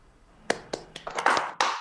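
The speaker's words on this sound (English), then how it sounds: "Guys, let's clap for Maharus." A handful of people in a classroom-style session clap briefly for a child after a communication-skills talk, with sparse, uneven claps that build into a short patter, fairly close and modest in volume.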